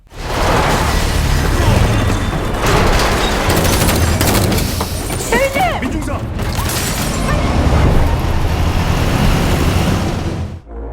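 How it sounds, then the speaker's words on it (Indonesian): Gunfire and explosive bursts from a film shootout between American soldiers and a small group, loud and dense throughout, with booms, rapid shots, whooshing effects and mechanical clatter layered over a continuous action soundtrack. "Adu tembak pun tak bisa lagi terhindarkan."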